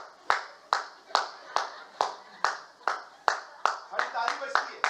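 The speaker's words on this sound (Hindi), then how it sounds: "ताली बजती है।" Congregation clapping in steady rhythm during worship, about two claps per second, close and clear with a voice briefly rising over the later beats.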